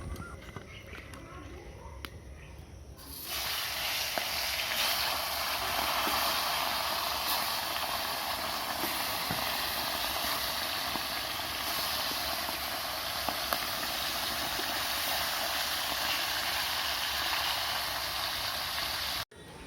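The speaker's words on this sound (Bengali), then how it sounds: "মাছ কটা ভাজতে দিয়ে" Tilapia fries in oil: after a few quieter seconds, a steady, dense sizzling hiss sets in and continues evenly to the end.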